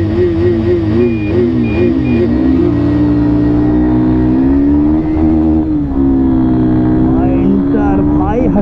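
Yamaha FZ250 and Husqvarna Vitpilen 250 motorcycles accelerate in a drag race, a loud continuous engine roar heard up close whose pitch wavers and climbs as the bikes pull away.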